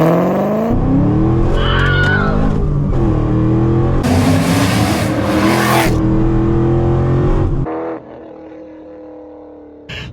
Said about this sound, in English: what better way to kick off the drive than a little bit of launch control action